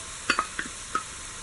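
Chopped ginger hits a hot frying pan for a Kerala-style beef cutlet, giving a few short, close scraping stirs over a soft, steady sizzle, with no voices.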